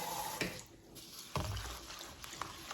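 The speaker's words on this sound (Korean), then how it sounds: "찹쌀은 이게 하얀 물이 나올 때까지 좀 깨끗이 씻어 주셔야 돼요" Glutinous rice rinsed by hand in a bowl of water, with close, wet sloshing and swishing, a couple of sharper splashy clunks around the middle, and steady trickling water underneath throughout.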